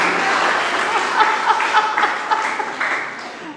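Church congregation clapping during a sermon, a steady dense patter of applause running throughout with slight swells, moderately loud and fairly close.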